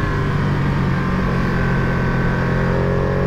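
A 2023 Ducati Panigale V2 motorcycle accelerating hard, a loud, steady engine drone with rising harmonic tones throughout, close to the rider with no talk.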